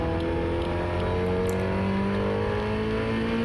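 An Ariel Atom race car's engine drones loud and close on the Oulton Park circuit, a steady high whine that rises slowly in pitch as it powers along, with no voices.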